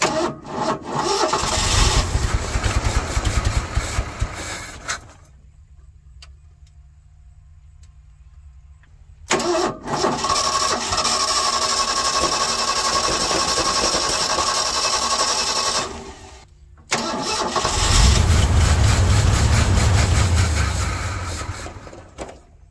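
A 1977 Ford F600 truck engine with fuel issues cranks and catches, idles roughly, cuts out into silence for a few seconds, then restarts twice more, running loud and close between the stops.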